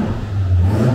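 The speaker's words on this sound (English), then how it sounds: "Sick little BMW just pulled in." A BMW car pulls in at a track day in Buenos Aires, its engine a close, steady low hum that swells slightly over one second, with no talk.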